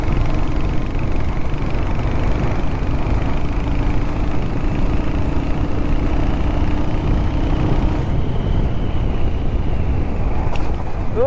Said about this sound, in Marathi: तर थोडीशी आपण गाडी पळवूयात